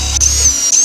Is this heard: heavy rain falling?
no